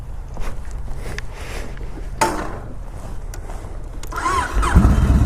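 A 2013 Yamaha Raider 1900cc muscle motorcycle cranks and fires up, its starter whir giving way to a deep, rising engine rumble close by, with some clatter and handling noise beforehand.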